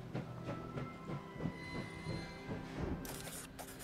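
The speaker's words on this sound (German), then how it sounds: "der Zug hielt an einem kleinen Bahnhof" Train in the game Last Train Home pulling into a small station, a steady rolling rumble with rhythmic wheel clatter and faint squeal, ending in a hissing brake release.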